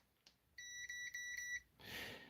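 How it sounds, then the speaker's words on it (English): A multimeter set to continuity mode gives a steady, shrill electronic beep lasting about a second, with slight breaks, followed by a brief burst of hiss in a quiet room. "We're going to set for the beeper"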